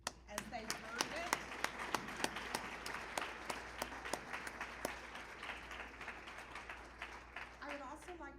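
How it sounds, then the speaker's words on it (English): Audience applause at a college freshmen ceremony, a sustained burst of many hands clapping with sharp individual claps standing out, moderately distant and fading slightly toward the end, with a voice faintly beneath. "I'd like for us to all give them all a round of applause as they've earned it."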